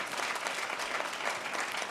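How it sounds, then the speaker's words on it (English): Steady applause from an audience at an awards gala, a dense wash of clapping that holds at an even level throughout. "Let's give him a big round of applause."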